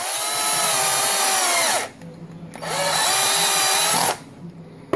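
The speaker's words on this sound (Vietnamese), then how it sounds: "em dùng vít tự khoan kiểu này, bác cho lên đầu cái máy khoan" A power drill drives a self-drilling screw while a camera is being mounted, whining loudly and close in two long bursts, its pitch rising as each burst starts and sagging under load, with a short pause between them.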